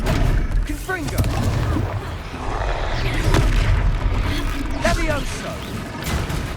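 Confringo spells fired in a Harry Potter video game battle, producing repeated booming blasts and bursts amid chaotic combat noise, with voices and creature sounds mixed throughout.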